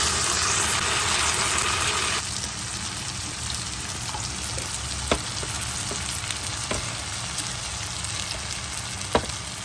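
Chopped tomatoes frying in oil for a spicy beef biryani, a steady loud sizzle with a few sharp clicks of utensils against the pot, no talking.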